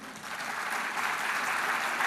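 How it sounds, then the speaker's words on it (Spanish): Sustained applause from an audience at an open plenary session of a sustainable-development event, a dense, even wash of clapping at steady loudness with no voices over it. "Les brindamos un fuerte aplauso."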